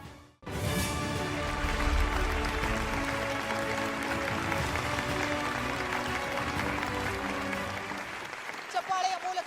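Sustained, dense applause from an awards-ceremony audience welcoming a recipient, starting abruptly and holding steady at full strength for several seconds before thinning out, with a few scattered claps and faint voices at the end.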